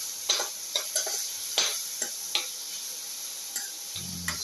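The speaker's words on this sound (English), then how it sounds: "Keep on sauteing until the shallots reach their pinkish color" Shallots sautéing in a pan for a ginger eggplant potato casserole: a spoon or spatula scrapes and taps the pan in irregular strokes over a low, steady sizzle, close and fairly quiet.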